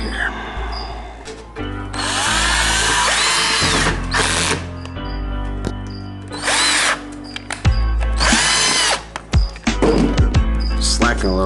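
A power drill drives screws into a plastic animal cage in several loud whirring bursts, each revving up and stopping, with a person talking between them.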